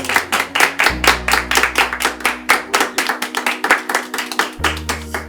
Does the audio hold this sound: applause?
yes